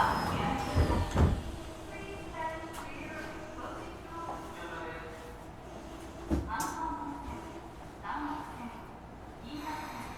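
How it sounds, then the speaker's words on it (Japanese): Doors of a Tokyo Metro 17000 series train on the Yurakucho Line sliding shut, with a couple of sharp knocks and thuds over steady subway hum while an announcement-like voice carries on. "ドアが閉まります。閉まるドアにご注意ください。"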